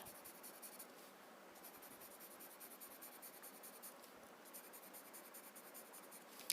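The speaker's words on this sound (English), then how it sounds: "now I'm using my blue chalk pencil and going around my tile" A blue chalk pencil rubs steadily around the edge of a paper Zentangle tile, a soft, continuous scratchy stroking heard close up and alone at a low level.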